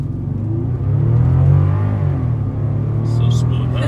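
A 2006 Bentley Continental Flying Spur accelerates in sport mode, its engine rising into a deep, loud, smooth rumble heard from inside the cabin, swelling and easing slightly over a few seconds.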